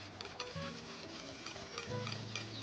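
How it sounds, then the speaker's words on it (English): A whisk beats a custard mixture thickened with flour in a bowl, producing quick, close, rhythmic ticking strokes with no talking. "So just give that a little whisk."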